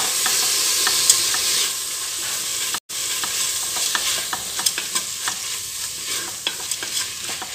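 Coriander and mint leaves are stirred with onion and tomato in a hot pan, with a steady sizzle broken by sharp spoon scrapes and clinks, close up, pausing once for a moment.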